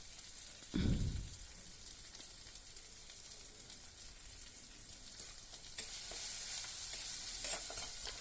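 Onions and chopped banana flower sautéing in a pan for a stir-fry, a soft, quiet sizzle with a dull thump near the start and faint scraping from stirring.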